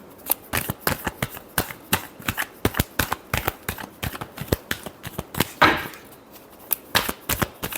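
Tarot cards are shuffled by hand in quick bursts, a crisp riffling clatter of sharp repeated snaps with a longer ruffle midway, close and dry with no talking.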